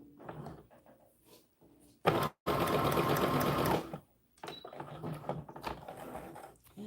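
A sewing machine stitches an American Girl doll dress from a McCall's pattern, with quiet handling sounds before a loud close burst of rapid stitching, a short break, then softer intermittent running.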